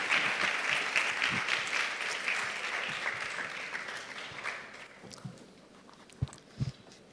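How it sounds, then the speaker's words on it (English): Audience applause after a TED-Ed student talk at a school event, a dense burst of clapping that gradually thins out, leaving a few scattered claps at the end. "Can we give once again a round of applause for Navadarshan"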